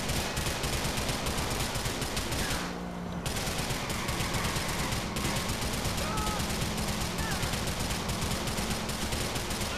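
Dense, continuous gunfire in GTA IV rattles on and off for several seconds, loud and layered, with a brief gap near the start.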